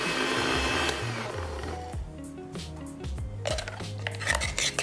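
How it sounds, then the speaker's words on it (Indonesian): An electric blender grinds spices for Lontong Palembang, a loud motor whir shifting pitch as the load changes, with clattering bits near the end. "Kita blender, bisa ditambahkan dengan air ketika memblender"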